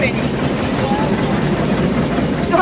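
A toy train at Elephanta Island gives off a steady, loud mechanical rumble with a broad wash of noise, holding even throughout and rising slightly at the very end.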